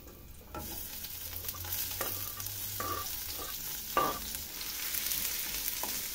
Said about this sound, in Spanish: nos vamos a una sartén con un poquito de aceite de oliva